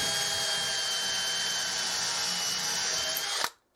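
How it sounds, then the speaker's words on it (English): A DeWalt electric drill bores a pilot hole in wood for an outdoor bench, its motor whining steadily and close for about three and a half seconds before stopping sharply, with no talk. "Now I'm going to use my DeWalt electric drill to drill a pilot hole in here."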